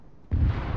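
Rocket explosion in the video game Arma 3, a sudden heavy boom after a brief quiet moment, followed by a sustained rumbling roar.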